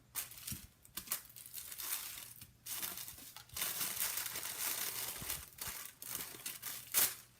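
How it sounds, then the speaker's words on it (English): A sheet of wax paper is handled and crinkled for a craft project, with bursts of crackling and rustling separated by brief pauses, close and fairly quiet. "I'm going to grab a piece of wax paper"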